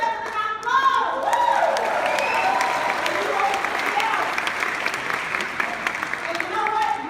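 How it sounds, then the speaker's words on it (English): Audience applause at a motivational gathering, loud sustained clapping with some crowd cheering, steady and full throughout, with voices briefly audible at the start. "you are ready to give yourself a round of applause"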